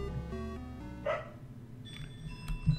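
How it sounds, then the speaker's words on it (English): Household dogs bark at around 1 a.m., a short, distant burst of barking under louder video game music. "It's like 1 a.m. and they're barking."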